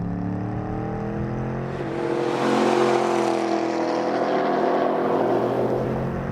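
A 2013 Chevrolet Camaro SS 1LE accelerates hard in second gear down a track's front straight, its engine note rising and swelling loud and close for several seconds with a steady roar and no talk.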